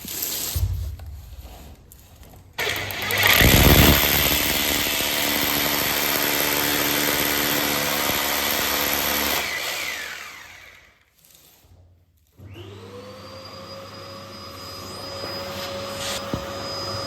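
A power tool drives self-tapping screws into a PVC skirting board, whining loudly and continuously with a short pause before spinning up again; no one talks.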